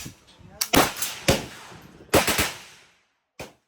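Gunfire cracks out at a shooting range at the Cu Chi Tunnels in Vietnam, fairly close and loud, with several sharp bursts in uneven succession and brief gaps of quiet, plus a final shot near the end.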